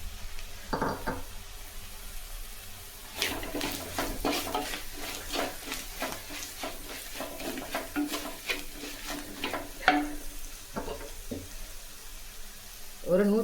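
Green chillies, cut in two, frying in a pan for an aubergine relish, a soft sizzle with a run of scraping stirs and clinks in the middle, then quieter sizzling with occasional taps.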